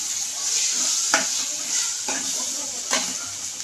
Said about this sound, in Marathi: आता आपण लसूण आणि खोबरं याचं जो पेस्ट केली होती ती टाकतोय आणि हे मिक्स करून घ्यायचंय.